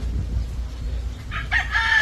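Native chickens in a small coop give a brief crow and clucks near the end, heard over low rumbling background noise, fairly close.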